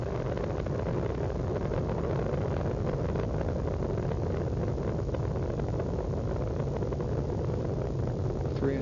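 Space Shuttle Discovery's three liquid-fuel main engines roar at full throttle during the STS-96 launch, a dense, steady low rumble filling the whole stretch, heard from a distance with wind buffeting the microphone.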